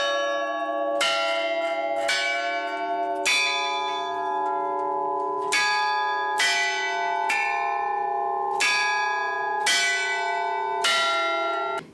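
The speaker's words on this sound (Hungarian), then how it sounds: "A harangjáték minden órában megszólal." A church tower carillon, restored with new bell mounts and sounding every hour, rings a melodic sequence of about eleven clear, resonant strikes in a steady rhythm, each ringing on into the next, with no voices.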